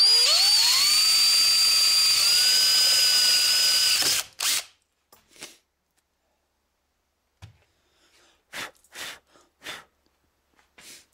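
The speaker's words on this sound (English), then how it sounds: "I'm going to drill out this." A power drill bores out a stuck cartridge case for a case extractor, a steady high whine rising in pitch for about four seconds, then a few short bursts of drilling and scraping separated by quiet gaps.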